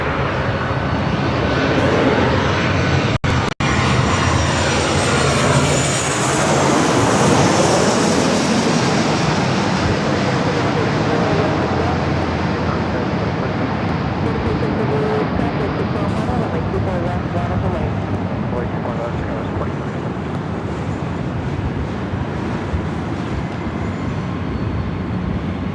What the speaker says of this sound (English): Butter landing on that Delta